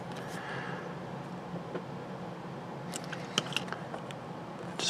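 A screw is tightened on a Star Trek Enterprise D model kit build: faint, close ratcheting clicks and small scraping turns, with a quick cluster of sharper clicks near the end over a quiet background.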